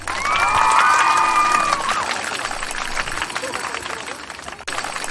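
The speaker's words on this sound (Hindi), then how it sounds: "इसके साथ ही पूरा हॉल तालियों से गूंज उठता है।" Applause fills a hall at a wedding anniversary celebration, with dense, steady clapping and crowd noise throughout and a shrill whistle-like tone rising over it early on.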